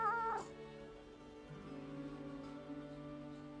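A cat meows once in the Monster Hunter Wilds video game, a short nasal cry over a steady tonal musical drone that continues underneath, at moderate to low level.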